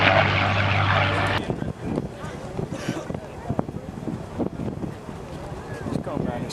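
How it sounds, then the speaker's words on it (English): At an air show at Langley Air Force Base in 2007, a propeller aircraft drones loudly at first, then fades into gusty wind noise and crowd ambience with a voice announcing over loudspeakers. "Steve Oliver is coming down the line in just a second"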